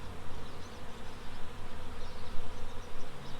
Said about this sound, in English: I'm actually seeing a bee.